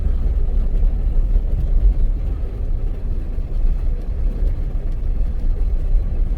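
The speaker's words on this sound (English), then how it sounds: "Once you get to about 35, road noise kind of takes over." A Chevy Suburban in two-wheel drive cruising at around 35 mph, a steady low rumble of road and tire noise running throughout, fairly loud and continuous with no talking.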